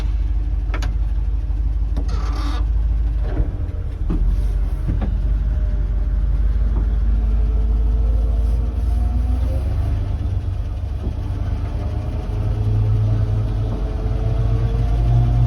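A 1968 Dodge 3/4 ton truck pulling away in first gear without power steering, its engine a steady low rumble that stays close and loud throughout, with faint mechanical clunks and no talking.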